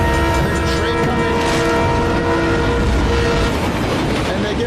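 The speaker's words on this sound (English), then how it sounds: "there's a train coming." A train rushes past during a Fast & Furious movie scene, a loud continuous roar of rail noise with tonal horn-like drones, held steady throughout with possible voices beneath.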